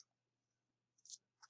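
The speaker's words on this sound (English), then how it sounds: "I'm double clicking when I don't need to." Computer mouse button clicked on a desk during a virtual desktop session: a few faint, close, sharp clicks near the end after near silence, including a quick double click.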